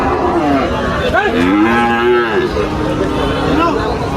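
Cattle bulls moo loudly and repeatedly, long drawn-out lows overlapping against a busy, noisy crowd background at Tepakhola cattle market in Faridpur.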